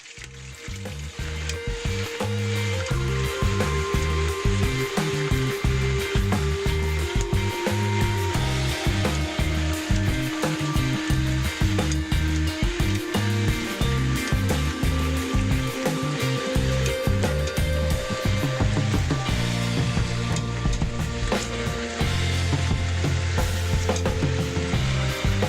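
Beef browns in olive oil in a pan for birria, giving a loud, steady sizzle with crackles and occasional stirring or scraping noises, and no talk.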